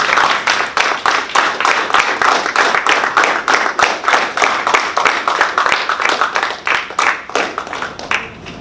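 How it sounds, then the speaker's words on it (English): Middle school students clapping for a mentor speaker in a school setting, a rhythmic, unison clap repeated at a steady beat, loud and close, continuing for several seconds before tapering slightly at the end. "Clap it up."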